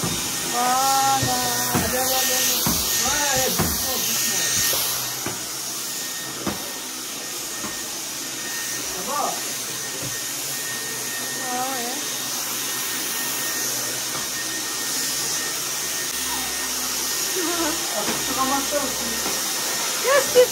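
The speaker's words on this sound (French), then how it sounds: "maintenant, tu peux passer l'aspirateur" A household vacuum cleaner runs with a steady airy whine and hiss, heard indoors beneath a child's and an adult's voices talking and exclaiming over it.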